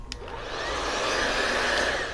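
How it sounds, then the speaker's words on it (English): A handheld blow dryer runs steadily, drying the roots of freshly cut layered hair, with a continuous close airy whine and a brief click at the start. "put my fingers and use the blow dryer and get the roots dry"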